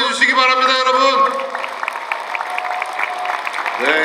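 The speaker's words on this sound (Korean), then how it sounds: "우리 당대표 후보님들, 우리 최고위원 후보님들께 뜨거운 응원의 박수 한번 보내주시기 바랍니다" Applause from a crowd at a political party's regional leadership rally, heard under an announcer's amplified voice over a loudspeaker, clapping spread through the middle of the clip.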